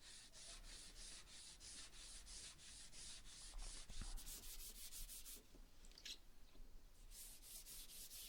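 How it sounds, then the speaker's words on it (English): An old pine mirror frame is hand-sanded with 100 grit sandpaper, giving steady rhythmic rasping strokes close by, with a brief pause and change of pace partway through. "Then I could sand it down with 100 grit sandpaper just to remove any last bits of paint and smooth it all out."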